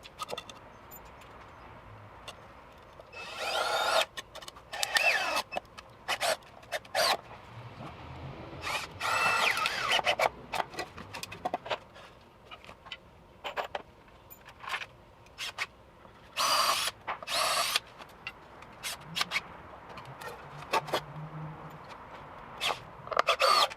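A power drill driving 3-inch screws into pallet wood, heard as several short whirring bursts of varying length with handling noises and pauses between, close and moderately loud.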